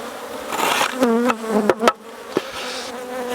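Honeybees buzz loudly and close during a hive inspection as frames are shaken, with sharp taps and knocks of the wooden nuc box breaking through the swarming drone.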